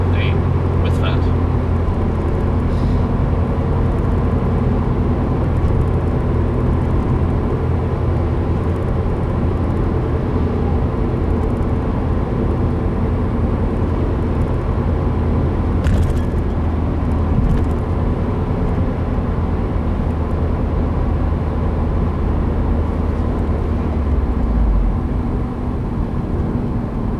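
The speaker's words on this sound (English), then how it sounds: "the first gear, nail the throttle" A 2015 Subaru WRX with a Stage 1 map on E30 tune pulls hard in first gear, a loud, steady engine drone and road roar running continuously from inside the cabin, with speech audible over it.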